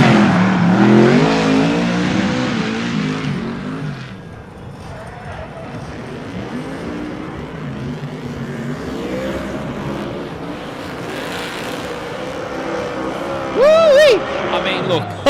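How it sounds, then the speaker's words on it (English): A Carbon Kevlar Corvette drift car fitted with a sprint car engine revs and screams through a qualifying run at a drift championship, rising and falling engine tones with a sharp burst near the end, under ongoing commentary. "Sprint car engine. Have a listen to this"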